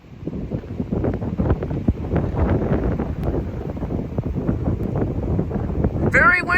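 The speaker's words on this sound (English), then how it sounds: "Very windy out here." Strong gusty wind buffets the microphone outdoors near a rail line in winter, a constant loud low rumble throughout, with a brief higher squeal right at the end.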